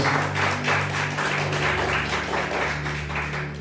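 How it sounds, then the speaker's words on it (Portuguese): A church congregation claps in praise during a sermon, a steady wash of many hands with a low sustained tone running underneath, moderately loud throughout. "Diga graças a Deus, palmas para Ele."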